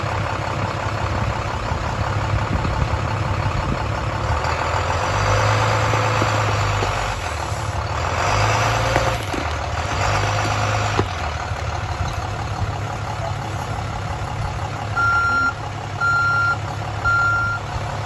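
A school bus straining to pull out a tree stump, its engine rumbling steadily throughout while a loud, regular reversing beeper pulses close by.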